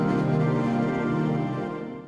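Sustained dreamy pad made from a sampled piano chord processed with time stretching, warping and a crystallizer effect, swelling as one thick shimmering chord and fading toward the end, loud and alone with no talking.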